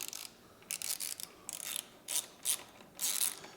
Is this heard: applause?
no